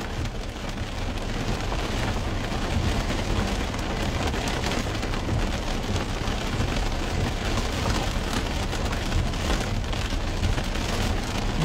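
Heavy rain pouring down in Al Ain, UAE, as valleys flow, a loud steady roar of dense rainfall hitting surfaces throughout, with no voices heard.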